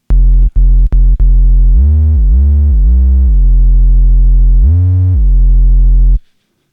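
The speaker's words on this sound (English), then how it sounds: "There is a mode here on the disting, or there are some modes where you can get a bit of distortion to the sine wave" A buzzy, harmonically rich distorted sine wave from a Disting modular synth module in separate sustained notes with gliding pitch bends, starting with a few short clicks and ending abruptly.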